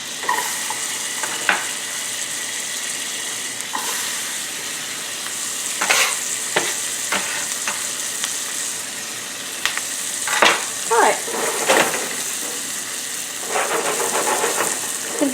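Vegetables sautéing in melted butter in a small pan, a steady close sizzle with intermittent scraping stirs and utensil clinks, no talking.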